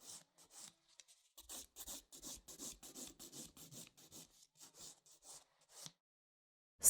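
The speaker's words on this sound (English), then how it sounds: "file my product flush with the natural nail" Rhythmic scraping of a nail file across acrylic nail product, worked flush with the natural nail for a long French ombré set; a steady run of short close strokes, then sudden silence.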